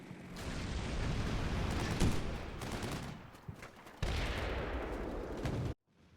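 Mortar fire in the Combat Mission Cold War video game, a loud, dense rumble of blasts and crackling detonations that swells, dips, surges again and then cuts off abruptly.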